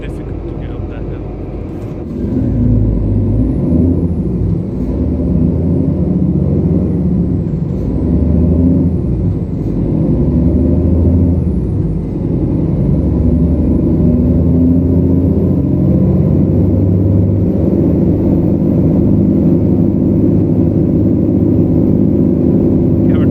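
A 410-horsepower truck in Euro Truck Simulator 2 labours up a hill with a deep, steady, loud engine rumble and a brief air-brake hiss near the start, and a voice speaks now and then over the engine.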